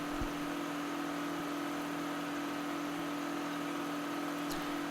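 A John Deere 9560 tractor, 560 horsepower, running in Farming Simulator 2013, gives a steady, even engine drone with a constant low hum and no change in pitch, heard alone at moderate level.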